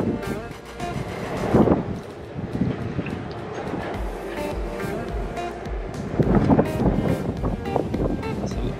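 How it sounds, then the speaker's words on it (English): Loud seaside wind on a hotel balcony at Cape May gusts and buffets the microphone, swelling in two strong bursts with a steady rushing roar in between. "The wind is really loud"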